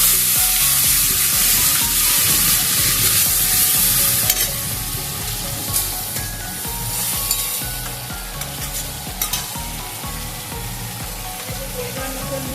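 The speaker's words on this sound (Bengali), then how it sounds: "ভাজা ভাজা হয়ে গেছে, এখন আমি টমেটোটা দিয়ে দেব।" Cauliflower and potato frying for an aloo phulkopi curry as tomato goes in, with a steady loud sizzle and repeated stirring scrapes that soften slightly partway through.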